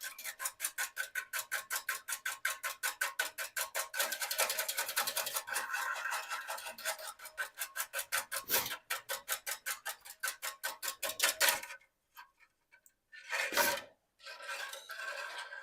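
A whisk scrapes and stirs around a pot of fish soup broth with undissolved salt on the bottom, making a fast, steady rasping rhythm up close that breaks off near the end into a few separate scrapes.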